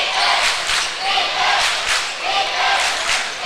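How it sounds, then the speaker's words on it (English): A loud high school basketball crowd from Malden roars and cheers in a gym during a Christmas tournament game, with dense sustained noise swelling in waves. "Malden crowd is loud right now."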